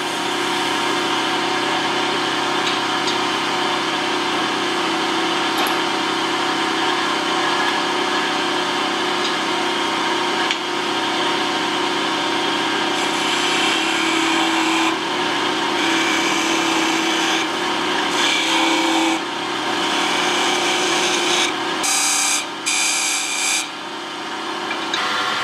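Wood turning chisel cutting a spinning top on a lathe, a steady, continuous scraping and rubbing hiss over the motor's hum that runs throughout, with brief changes in tone as the tool shifts against the spinning wood.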